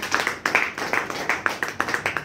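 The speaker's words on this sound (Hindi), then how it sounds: "भाई साहब ताली जोरदार होना चाहिए" Audience at a business seminar claps in a fairly loose rhythm, a dozen or so sharp claps close by and loud, without speech over them.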